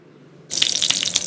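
Potato chicken cutlets hit oil in a pan over a medium-to-low flame, bursting into a sudden close sizzle with sharp crackles and pops that continue steadily after the start.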